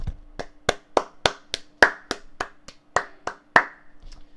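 One person clapping hands alone, about a dozen sharp, distinct claps at a slightly uneven rhythm, close and crisp against a quiet background with a faint steady hum.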